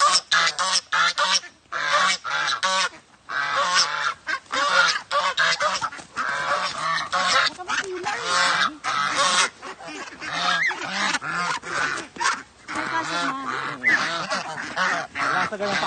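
Ducks and geese honk and quack loudly and almost without pause while being fed by a small child, a dense overlapping chorus of close calls throughout.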